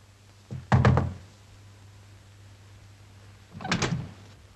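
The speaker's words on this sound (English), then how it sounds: "I heard your knock." Knocking on a door in a 1947 film noir: a quick cluster of sharp raps, a pause of nearly three seconds, then another short burst, heard alone over a low hum.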